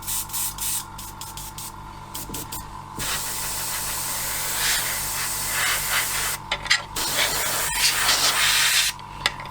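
A cheap Fengda FE-183K airbrush with a 0.5mm needle, run off a compressor, sprays in a steady hissing rush that holds for several seconds, broken by short bursts and pauses as the trigger is worked.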